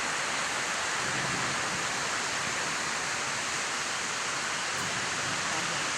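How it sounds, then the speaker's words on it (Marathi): The season's first rain after the hot season falls steadily in a village, a dense, even hiss that holds constant throughout, with no voices or other sounds breaking through. "वळवी पाऊस पडलेला आहे आमच्या इथे"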